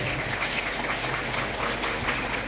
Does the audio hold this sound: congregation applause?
yes